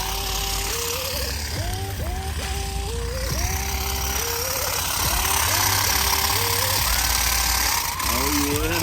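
A Can-Am off-road vehicle drives across a Kansas wheat field on a goose hunt, its engine running with a steady, rough, loud drone throughout and repeated rising pitch sweeps as it revs. People talk over the engine.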